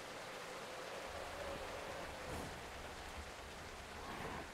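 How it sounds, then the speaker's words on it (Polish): Steady rain falls in the farming video game Farmer's Life, a dense, even hiss of raindrops with no talking, continuous throughout. "No musi ten deszcz zaraz przestać padać"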